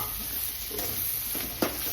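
Marinated chicken pieces for chicken fry sizzle steadily in a hot pan, with a soft stirring scrape and a single brief clink near the end; no voices.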